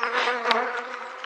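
Honeybees buzz steadily around an opened top bar hive, a dense close-up hum with several insects passing near, one briefly louder as it flies by.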